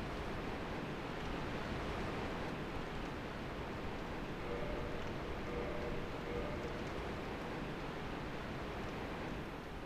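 Waterfall in Dark Souls, a steady broadband rushing wash of falling water that stays even and constant throughout at moderate level, with no voices.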